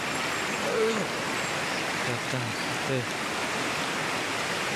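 A village stream rushes and gurgles in a steady, even wash of water. A faint voice is briefly heard over it.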